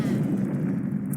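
A deep, rumbling missile explosion from the video game Mischief Makers, a dense low boom sustained for about a second at steady loudness.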